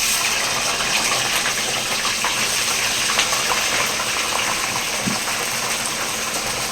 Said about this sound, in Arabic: تعالوا نحط البطاطس في الطاسه